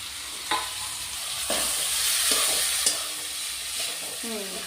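Grated coconut and prawns fry together in a pan with ridge gourd, making a steady close sizzle broken by a few sharp spatula scrapes and knocks as the mixture is stirred, without any speech.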